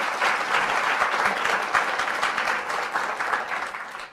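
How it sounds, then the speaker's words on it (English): An audience at a panel discussion on European nationalism, trade, migration and security claps for its panelists, giving steady, dense applause that carries through without a break or any voices on top. "Let's have a nice round of applause for our panelists here today"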